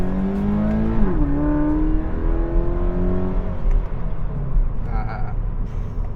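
A 2018 Toyota 86 TRD revs as the accelerator is pressed, its engine note rising sharply then holding a steady high drone, loud and close, with talk over it.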